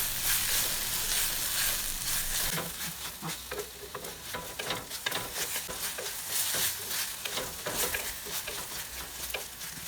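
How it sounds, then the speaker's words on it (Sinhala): Ground spice paste stirs and fries in a pan for a potato and egg curry, with a steady close sizzle and repeated scraping stir strokes throughout, no voices. "මුලින් ග්‍රයින්ඩ් කරගත් පේස්ට් එක මේ වෙලාවේ එකතු කරගෙන හොඳින් මිශ්‍ර කරගන්න"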